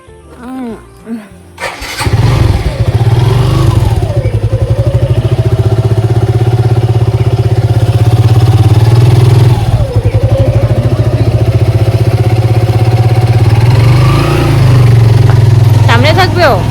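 A motorcycle engine catches after a short start and then runs loudly and steadily, its pitch rising and falling as the bike rides off through the rest of the stretch.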